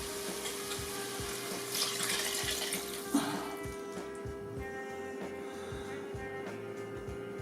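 About 250 millilitres of water goes into a pot while making smoked brisket ragu, a brief rushing pour and splash over a steady low kitchen hum.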